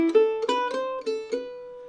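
Mandolin plays a short swing-jazz solo phrase: a quick line of five or six clearly picked notes, close and alone with no talking.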